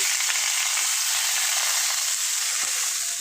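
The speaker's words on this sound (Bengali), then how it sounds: "আমি পেঁয়াজ কুচিটা দিয়ে দেবো।" Chopped onion sizzles in hot oil in a kadai wok, making a steady, loud, close hiss that runs unbroken with no talking.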